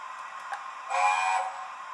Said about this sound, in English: We've got the screech whistle.